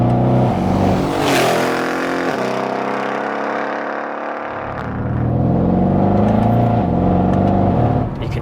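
A 735 bhp Mercedes E63 AMG with a straight-pipe exhaust accelerates hard. A loud, deep engine roar rises through the gears with a brief shift dip and a crackle, then builds again, close and alone.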